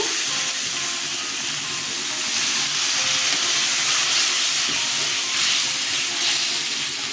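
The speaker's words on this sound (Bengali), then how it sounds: "মশলাটা কষানো হয়ে গেছে জল দিয়ে দিচ্ছি" Water poured into fried, cooked-down spice paste gives off a steady hissing sizzle that holds fairly evenly throughout, close by and moderately loud, with no voices.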